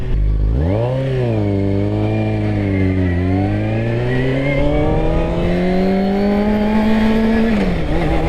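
Close and loud, a motorcycle engine revs on a wet road, its pitch climbing in a long pull after a quick blip, with spray and road noise underneath.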